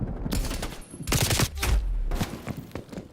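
Shotgun blasts in a Call of Duty match played on PC, several loud booming shots in quick bursts with gaps between, mixed with game effects.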